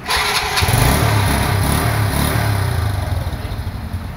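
A 1975 Honda C70 motorcycle's small engine starts up and settles into a steady, close, loud putter and idle.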